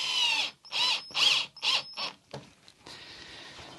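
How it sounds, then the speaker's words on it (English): Electric drill drives bolts in short bursts, about five whirring spins with brief pauses between them, close and clear, followed by a few clicks and a faint mechanical rattle, no talking. "I'm using a drill just because it's less angry than the impact driver"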